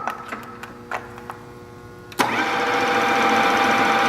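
A Deckel FP2 universal milling machine sits idle with a few light clicks and knocks, then the motor kicks up to a higher speed with a sudden loud start and steady whirring hum that continues.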